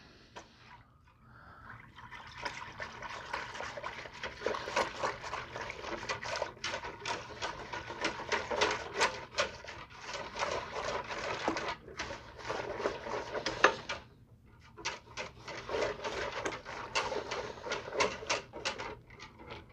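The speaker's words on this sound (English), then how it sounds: "Now I'm going to whisk that in real well." A whisk clatters rapidly against a pot as yogurt starter is beaten into milk for homemade Greek yogurt in a Ninja Foodi Deluxe, a steady, close scraping and ticking rhythm lasting throughout with one brief pause.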